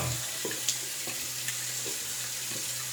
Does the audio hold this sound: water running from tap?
yes